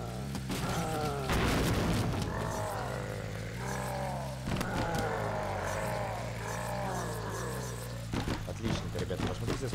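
A car engine roars and revs in a zombie-smashing driving video game, loud and continuous, with repeated rising and falling engine sweeps, sharp impact booms and crunching hits layered over it.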